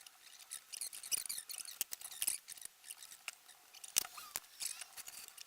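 Scissors snipping through a belt for the X-axis carriage of an X400 3D printer build, a run of crisp, close cuts and handling clicks, quiet and alone.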